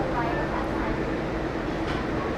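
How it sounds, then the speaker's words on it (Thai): Gold Line electric train in Bangkok rolling over a track switch, a steady broadband rumble of wheels and carriage noise throughout at close range, with no distinct separate clacks standing out. "ตอนนี้ก็สับรางแล้วนะครับ"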